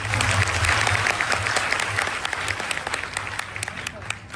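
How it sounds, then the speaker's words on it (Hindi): Loud, sustained applause from an audience at a street play staged by young girls, dense clapping filling the whole stretch and thinning slightly toward the end. "एक बार जोरदार तालियों से इनका उत्साह बढ़ाएं।"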